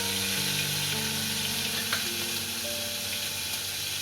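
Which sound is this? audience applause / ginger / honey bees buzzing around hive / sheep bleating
ginger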